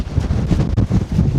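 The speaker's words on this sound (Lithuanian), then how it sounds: "Vėjas tai ultra." Strong wind buffeting the microphone on a mountain summit on Madeira, loud continuous low roaring gusts that swell and dip.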